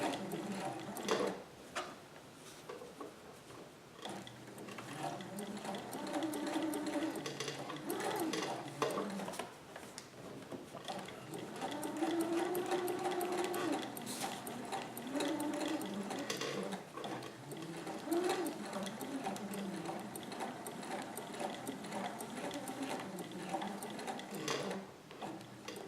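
A domestic sewing machine runs slowly and steadily, stitching a Hawaiian shirt made from a Simplicity 3852 pattern, with a continuous close mechanical whir and rattle and no talking.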